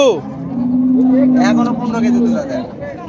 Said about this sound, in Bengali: আজ দেখো আমরা ভাইরাল মনু কাকার দুধের গাভীগুলো কালেকশন